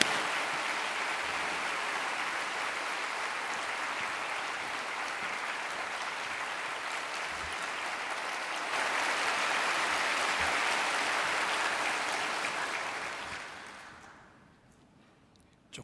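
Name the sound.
applause welcoming a guest pastor in church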